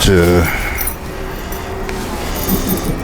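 Spare keys jangle and clink in a brief metallic burst, close and clear, followed by quieter handling sounds, with a voice speaking briefly at the start.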